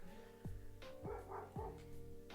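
A dog barks in a few sharp, separate woofs spaced about half a second apart, fairly close but moderate in level, over a faint steady tonal hum in the background.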